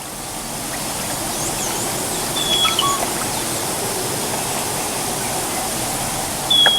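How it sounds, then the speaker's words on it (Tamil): A waterfall rushes in a steady, loud broadband roar, continuous throughout, with a couple of faint high bird chirps riding on top. "அருவியின் சப்தம் என் மனதை வருடுகிறது"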